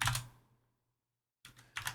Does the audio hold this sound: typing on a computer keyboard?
yes